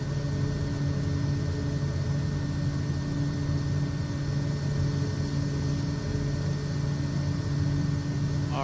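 Aircraft engine in Microsoft Flight Simulator 2024 after climb-out with flaps up, with RPM pulled back slightly: a steady, loud, droning hum with a low, even throb that continues without a break.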